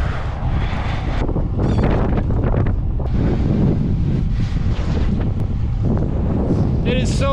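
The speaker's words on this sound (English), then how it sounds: "It is so windy." Strong winter wind buffets the microphone of a cyclist on a Giant TCR Advanced Pro road bike in loud, roaring gusts, with a faint voice briefly under the rumble.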